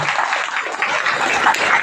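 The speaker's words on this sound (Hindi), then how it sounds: "चलिए जोरदार ताली बजा दीजिए।" A crowd at a training session in Shahdol district, India, applauds steadily, a dense wash of clapping at moderate volume with no clear pauses.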